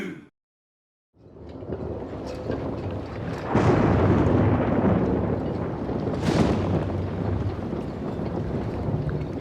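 Strong gusting wind from an approaching thunderstorm roars across the microphone outdoors during street football, with a deep low rumble and occasional louder gusts, continuous after a brief silent start.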